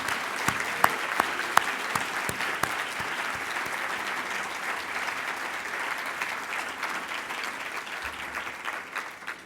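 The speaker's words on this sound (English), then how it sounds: "Can I ask for one more round of applause for all of our honorees?" An audience at a 2019 public servants merit awards ceremony applauds its honorees, with a few sharp, close claps at first inside a sustained round that gradually tapers off.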